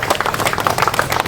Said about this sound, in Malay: bagi tepukan kepada kita semua.